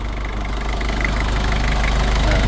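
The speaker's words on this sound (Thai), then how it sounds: "เครื่องยนต์เดินนิ่งๆเลย ใส่งานได้ปกติ" Used Toyota pickup diesel engine idling steadily up close, a continuous low rumble with a faint rhythmic knock and no voices.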